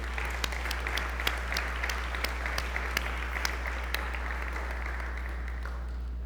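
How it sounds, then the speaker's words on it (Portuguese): Church congregation applauding steadily throughout, a dense wash of clapping with occasional sharper individual claps standing out, moderately loud with a steady low hum underneath. "Vamos aplaudir o Senhor por isso."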